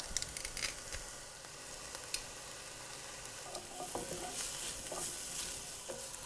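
Chopped onion sizzles in olive oil in a large pot, a soft, continuous hiss with scattered small crackles and light clicks, fairly quiet and without talk.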